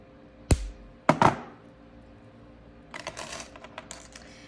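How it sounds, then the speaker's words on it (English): Cutters snip excess jewelry wire while making moonstone earrings, giving two sharp, close clicks followed by a scatter of light ticks and clatter. "Cut off the excess wire."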